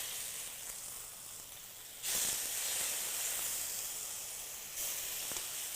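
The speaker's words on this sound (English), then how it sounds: "Now we're going to start to sear this beef nicely." Beef searing in oil in a hot wok gives a steady, close hiss and sizzle that jumps louder about a third of the way through and holds there.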